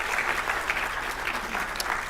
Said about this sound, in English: I want to give you guys time to do like loud applause and stuff